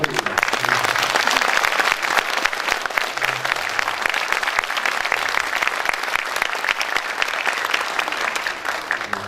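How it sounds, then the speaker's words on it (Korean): Loud, dense applause from an audience at a political briefing in Jeonbuk, sustained and even for the whole stretch, a continuous wash of clapping with a faint murmur of voices underneath. "뜨거운 격려의 박수 부탁드립니다"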